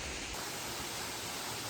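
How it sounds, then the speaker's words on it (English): Steady, dense rush of a jungle waterfall at Air Terjun Jeruk Manis in Lombok, Indonesia, a continuous broadband roar heard close and loud with no voices over it. "I can see the waterfall."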